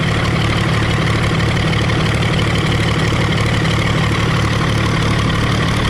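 A Case 930 tractor engine runs at idle after sitting for years, giving a loud, even, low diesel chug that throbs steadily throughout with no voices over it.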